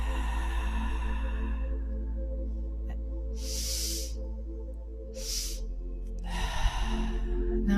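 Breath is drawn and released during a tantra breathing exercise. Three airy bursts rise over a low constant hum: two brief puffs, then a longer, fuller exhale.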